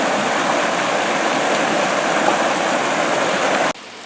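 Water of Bear Hollow Creek rushes steadily over its upper section at the Ozark Natural Science Center, a close, loud and even stream roar that cuts off sharply near the end.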